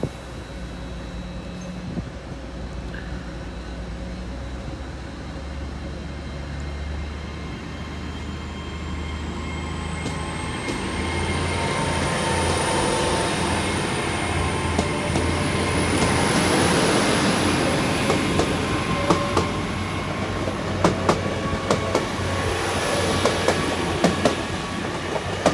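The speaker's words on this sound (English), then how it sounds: "I think this train is about ready to depart, so I will shut up and let you see this" A train pulls out of Taunton station on the Great Western Main Line. A steady low rumble builds into rhythmic clickety-clack and wheel noise, with a high whine rising over it as the train gathers pace nearby.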